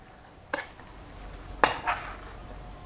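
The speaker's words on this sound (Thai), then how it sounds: "ทีนี้ก็คนคลุกเคล้าให้เข้ากันครับ" Spoon stirring a dry mixture of granulated sugar, ground salt and tapioca starch in a bowl for a Thai steamed tapioca-and-banana dessert, with a few distinct scraping clinks against the bowl, one early and two later.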